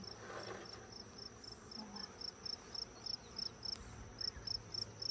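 Honeybees in an open backyard hive make a faint, steady insect hum, with small repeated buzzing pulses toward the end and no talk over it.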